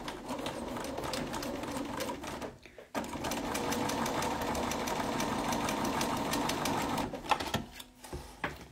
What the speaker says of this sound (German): Wieder mal ein bisschen Wellness für die Nähmaschine.